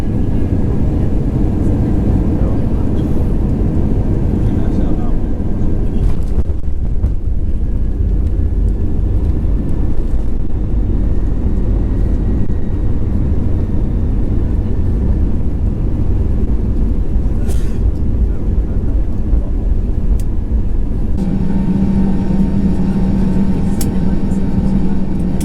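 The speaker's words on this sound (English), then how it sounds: "We descended for landing in Helsinki" Steady low broadband roar inside the cabin of a Finnair airliner descending for landing in Helsinki, continuous engine and airflow noise with a faint tonal hum, a brief change near the end, and murmured voices under the drone.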